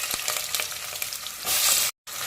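About 200 grams of onions hitting hot oil already spiced with cardamom, cinnamon and cloves for biryani, a close crackling sizzle with a few stirring taps, swelling louder before cutting off abruptly.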